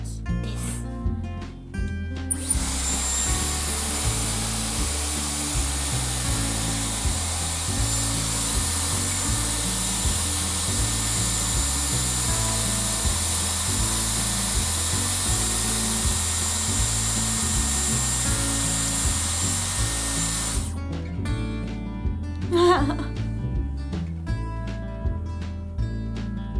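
Dyson Airwrap hair styler blows air on damp hair in a long, steady, loud whoosh that lasts about eighteen seconds. Clicks and handling noises come before it starts and after it stops.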